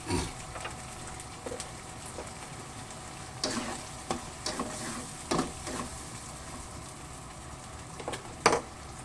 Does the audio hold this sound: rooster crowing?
no